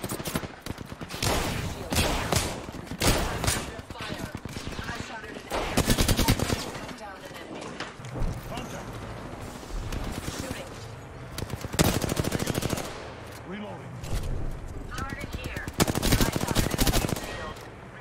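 Apex Legends gunfire in rapid automatic bursts, repeated volleys of sharp shots clustered across the span with brief pauses between, loud and close, with voices talking in between.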